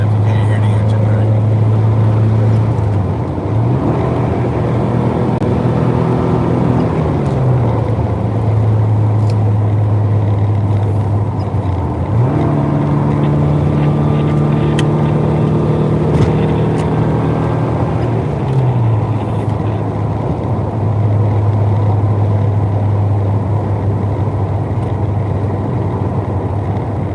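Porsche 944 with a louder-than-stock exhaust revs up and down repeatedly, its loud, close engine note climbing, holding and dropping back in long cycles over a steady droning idle.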